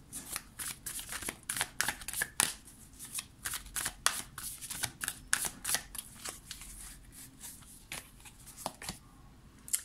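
A Light Seer Tarot card deck being shuffled by hand, giving close, crisp riffling bursts in quick irregular succession that continue without a break.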